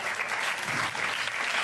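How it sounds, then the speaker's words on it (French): Dense audience applause at a film premiere screening, a steady, full wash of many hands clapping throughout the short stretch, loud and continuous with no talk. "c'est pour notre ami Trisover, donc on va demander de l'applaudir bien fort."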